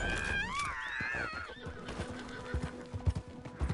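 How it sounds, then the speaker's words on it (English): A horse in the Red Dead Redemption 2 video game gives a loud, wavering whinny up close, then its hooves clip-clop unevenly as the neigh fades. "I'm trying to calm this horse down"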